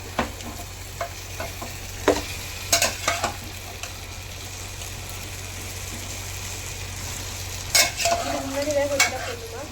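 One kilo of boiled mutton fries in a pot with a constant low sizzle, while spoon stirring adds short scraping, clattering bursts, clustered heavily around the early part and again near the end.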